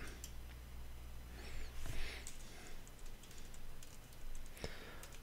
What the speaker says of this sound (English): Typing the title, skipping these two, and clicking publish.